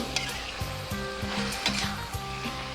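Chicken breast and holy basil stir-fry sizzles loudly in a new steel wok while a spatula scrapes and rings against the metal in quick, repeated strokes.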